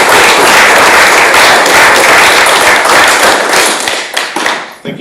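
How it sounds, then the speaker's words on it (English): An audience at a regional council meeting gives athletes a loud round of applause, a dense, close burst of clapping that holds steady and then thins out and fades toward the end. "Can we please give all these athletes a big round of"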